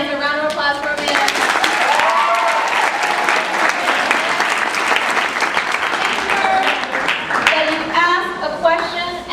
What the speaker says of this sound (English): Round of applause for Amanda.